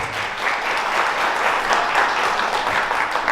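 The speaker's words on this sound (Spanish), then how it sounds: "yo quiero devolver ese aplauso a ustedes" Audience applause filling a live talk on orchestrating teams, a dense, steady wash of many hands clapping at fairly even loudness throughout, no voices standing out.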